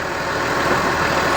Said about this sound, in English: There's a garbage truck behind me.